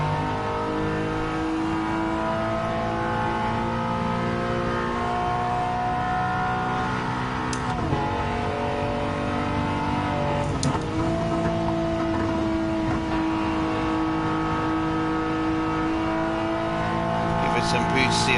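A little GTI races in Gran Turismo 7 in the wet, its engine droning steadily with shifting revs through a turn, while a person talks over the top.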